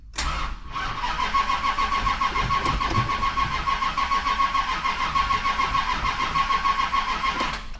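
A 1968 Dodge Charger R/T 440 engine cranks steadily with a rapid, rhythmic churning that keeps going for several seconds without catching, loud and close.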